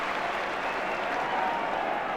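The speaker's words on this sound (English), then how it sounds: "The applause on the Kop is for Gary Gillespie." Football crowd on the Kop at a Liverpool v Everton match applauding defender Gary Gillespie, a steady distant roar of many hands clapping, dense and even with no individual claps standing out.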